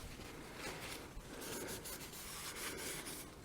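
A rag rubbing steadily around a brake part during a basic brake job, a continuous close scuffing and wiping sound with no talking.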